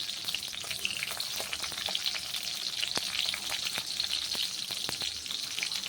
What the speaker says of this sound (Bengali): আর ওই তেলের মধ্যে আমি এখন দিয়ে দিচ্ছি একটা টমেটো